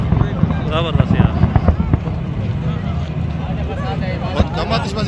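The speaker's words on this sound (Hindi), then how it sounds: "ये हो रही है भाईजान इस वक्त आतिशबाजी" Fireworks crackle and pop in the distance beneath a steady crowd hubbub and nearby voices talking, at the 2023 Pakistan Super League cricket opening ceremony in Multan.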